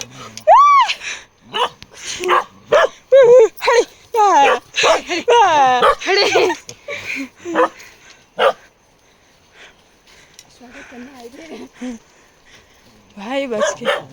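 Several dogs bark in short bursts while people talk outdoors in a grassy field being cut, with rain approaching; the barks are mixed in with the speech rather than heard on their own.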